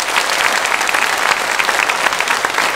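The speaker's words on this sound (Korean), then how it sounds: "우리 선교사님과 렘넌트 우리 박수로 환영하겠습니다" A church congregation at a Sunday worship service claps in welcome, a dense, steady wash of many hands filling the room for the whole stretch.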